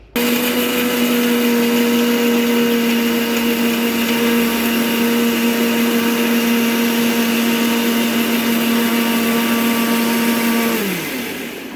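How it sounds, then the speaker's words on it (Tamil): A mixer grinder whirs continuously at high speed as it blends a papaya smoothie in its jar, loud and close, then winds down at the very end. "ஜார் போட்டு க்ளோஸ் பண்ணியாச்சு. இப்போ நான் அரைச்சிட்டு காமிக்கிறேன் உங்களுக்கு"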